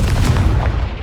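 A Confringo spell blast in Hogwarts Legacy erupts as a single loud, rumbling boom that sustains without a break, with no talking.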